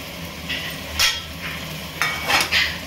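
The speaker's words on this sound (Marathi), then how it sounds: "आता आपण याच्यामध्ये जे आपण स्टीम केलेल्या भाज्या आहेत त्या सर्व ऍड करतोय।" Steamed vegetables are tipped into a pulao pot and stirred, making a few short scraping and clattering knocks of a spoon against metal, spaced unevenly over a low background hum.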